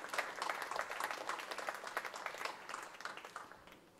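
Audience applause at a formal function held by a charitable organisation, welcoming dignitaries: a continuous, fairly distant spread of many hands clapping with a fluttering, uneven texture, steady for four seconds and easing slightly at the end.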